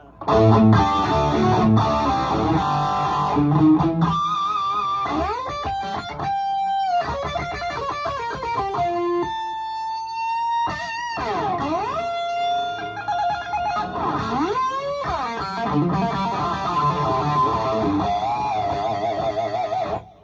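A distorted electric guitar plays through an amp's Plexi channel, chords and bending lead notes ringing out loud and close, with no talking.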